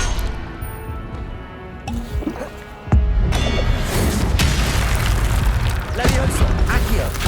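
A fire spell, Incendio, cast in the Hogwarts Legacy video game, bursting into a loud crackling whoosh after a sharp hit, over dense game combat effects with voices calling spells throughout.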